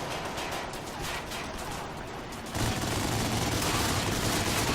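Video game gunfire in MindJack rattles as a steady, dense fusillade. It grows louder and heavier about halfway through and keeps a continuous noisy barrage to the end.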